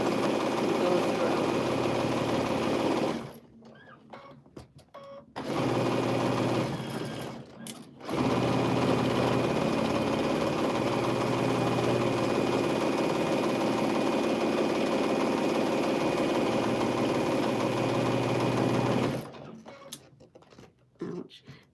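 Domestic sewing machine stitching through a quilt with a back tack: long steady mechanical whirring runs broken by a few short pauses, close and loud, with faint talk in the gaps.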